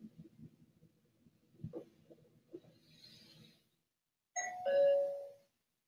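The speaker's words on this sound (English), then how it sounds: "the doorbell's awesome" An electronic doorbell chime plays once from a short video preview, a clear ringing tone near the end after some soft murmuring and clicks.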